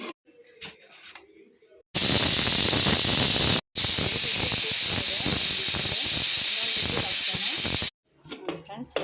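A pressure cooker lets out a loud, continuous hiss of steam for several seconds, briefly cut off once, while chicken sambar with mint leaves cooks, with quieter kitchen sounds before and after.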